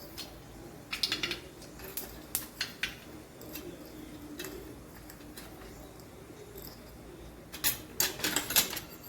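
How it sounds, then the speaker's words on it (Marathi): Sharp crackling pops burst in quick clusters over a low background hiss, with a busier flurry near the end, like seeds spluttering in hot oil. "तेल टाकून झालं की आपण अर्धा चमचा राई टाकून घेणार आहोत"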